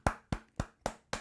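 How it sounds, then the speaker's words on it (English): Five crisp hand claps ring out close by, evenly spaced and unhurried, with silence between them. "Give him a big round of applause."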